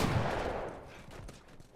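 Gunfire in the video game The Last of Us: a single loud, close shot with a booming report that decays, and a fainter follow-up shot partway through.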